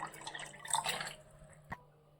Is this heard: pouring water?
yes